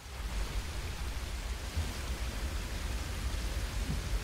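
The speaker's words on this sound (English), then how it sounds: "Thanks for the rain effect." Steady synthetic rain hiss in the Outriders video game, a continuous broadband wash of falling rain with no voices over it.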